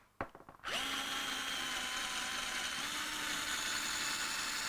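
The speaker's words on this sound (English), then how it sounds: "This is a metal drill. It should be fine." A power drill, really a screwdriver-type tool turning slowly, bores into hard plastic with a metal drill bit: a brief start-up stutter, then a loud, steady grinding whine that holds and slightly shifts pitch, close up with no talk.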